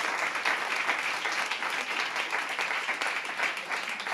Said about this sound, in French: Je vous invite toutes et tous à les applaudir